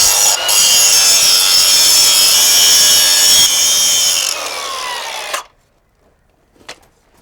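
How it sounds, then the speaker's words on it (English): A grinder works over a metal ground ring crusted with concrete and rust, a loud, harsh, continuous abrasive roar close by that lasts about five seconds, then cuts out, leaving near silence and one faint knock. "It's got concrete on it, and it's also got some rust. So I'm going to grind it."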